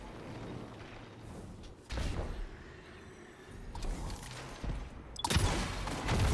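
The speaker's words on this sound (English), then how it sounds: "We got some truth rockets. See if we can snipe anybody around the map." Truth rocket launcher from Destiny in player-versus-player combat, a few heavy rocket launches and booming impacts rising out of a low rumble of game noise, louder bursts toward the end.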